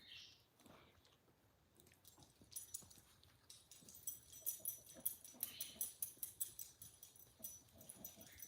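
A chihuahua whimpers and makes faint chewing, licking noises close by, quiet and intermittent, with soft high-pitched sounds scattered through.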